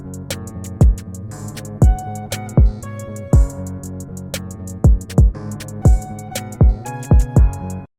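Punchy kick drum hits recurring through a dark guitar-driven trap beat, strong low thumps landing roughly every second over sustained guitar chords.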